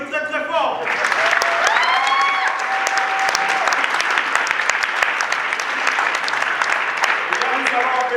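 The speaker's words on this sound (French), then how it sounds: "On applaudit très très fort." Loud, sustained applause from a theatre audience at a stage performance, filling the whole stretch steadily, with a brief tonal sound and a voice near the start.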